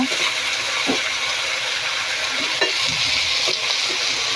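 Vegetables and leafy greens sizzling and frying in a pan while being stirred, a steady loud hiss with a few soft scraping knocks from the utensil.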